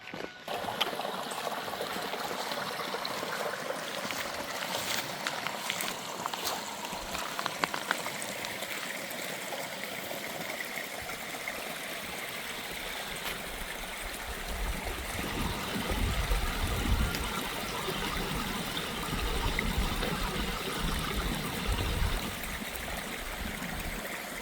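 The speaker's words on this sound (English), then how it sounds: "see how the water is running through" Water runs steadily through a small farm stream dug between two ponds, a continuous low trickle and gurgle with no voices.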